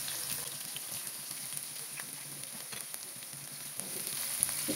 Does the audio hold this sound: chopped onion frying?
yes